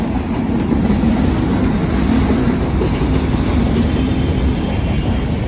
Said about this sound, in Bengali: ট্রেন আসছে তোমাদের দেখাচ্ছি, দেখো মালগাড়ি